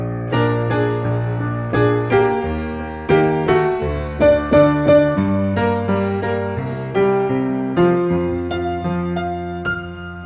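Piano playing a descending-pattern intro, with phrases repeating and an accented high note, steady and clear with no voices.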